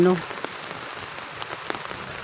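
Rain patters steadily on a surface, with scattered louder drops tapping nearby throughout.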